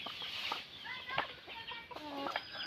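A female white-breasted waterhen kept at home gives a run of short, sharp clucking calls, close and fairly loud, in quick irregular bursts against a quiet background.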